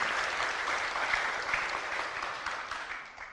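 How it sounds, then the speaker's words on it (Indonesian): Brief audience clapping, a steady patter of many hands that holds briefly and then fades out toward the end, with no voices. "Tepuk tangan dulu biar semangat."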